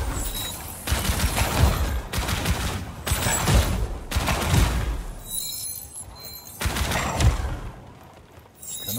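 Hip-fired gunfire from the video game Outcast erupts in several loud, rapid bursts of repeated shots separated by short pauses, with a dense crackle and low thumps.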